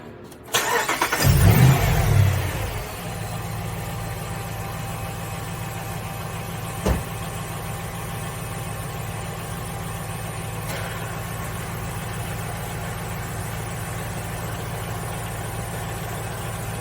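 A car engine cranks and catches in a short, loud burst, then settles into a steady, even idle that runs on with one small knock partway through.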